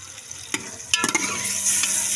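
Chicken frying in ghee in a pan, a steady near sizzle with a few sharp clinks of a utensil stirring partway through, no voices.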